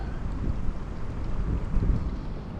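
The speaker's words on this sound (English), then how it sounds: "the wind is probably the worst here that I have fished in a long time" Strong wind gusting across a river during fly fishing with a spey setup, a steady broadband low roar buffeting the microphone throughout with slight swells, no voices.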